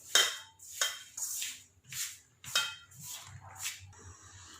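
A spoon mixing room-temperature ghee into flour in a bowl for bakery-style khari biscuit dough, a series of sharp scraping knocks against the bowl in an irregular rhythm, close and moderately loud, with no talk.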